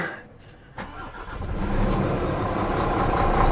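A truck engine turns over and catches, then settles into a steady low rumbling idle that holds at an even level.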